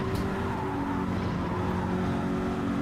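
A GT3 race car in Gran Turismo at St Croix lifts fully off the throttle, its loud engine note settling into a steady droning rumble with some tyre noise, no talking over it.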